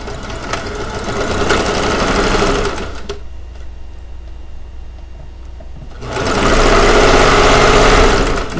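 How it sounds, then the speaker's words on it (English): A sewing machine stitches fabric for a weighted blanket, with a loud steady motor hum and rapid needle rattle in two bursts separated by a quieter pause near the middle. "I'm not going to sit here and make you watch me sew this whole thing"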